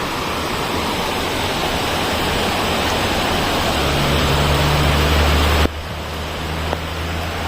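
Floodwater pours over a dam after heavy rain, a loud, steady broadband roar close by, with a low engine hum joining partway and the rush dropping slightly near the end.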